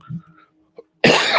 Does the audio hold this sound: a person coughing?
yes